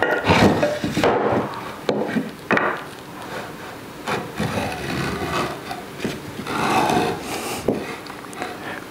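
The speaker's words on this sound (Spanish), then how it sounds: "Marcaríamos todo el contorno con el gramil." A marking gauge scribes around the outline of a mahogany block for an electric guitar body, giving close, continuous scraping and rubbing of wood in uneven strokes, with brief pauses between passes and no talking.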